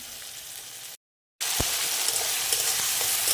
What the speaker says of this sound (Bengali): এই দেখো টমেটোটা ভাজা হয়ে যাচ্ছে।